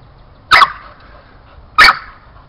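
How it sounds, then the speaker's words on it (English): A dog playing tug gives two sharp, loud barks about a second apart, close to the microphone, with only quiet background between them and no talk. "Come on with the barking now."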